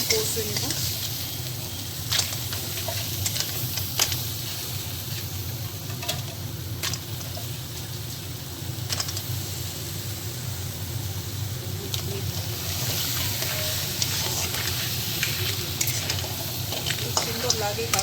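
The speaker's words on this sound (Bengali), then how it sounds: "পাগুলো ভাজিনি, ওগুলো মশলার সাথে আমি কষে নেব।" Crab legs being fried down in spice masala in a pan: a continuous low sizzle with occasional sharp clicks and stirring knocks, while a person talks over it.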